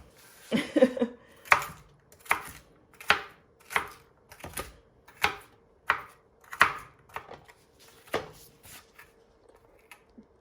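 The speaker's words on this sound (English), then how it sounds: "chopping up the celery here" Knife chopping celery on a cutting board, a dozen crisp, evenly spaced thunks about every three-quarters of a second, close and clear with no talking.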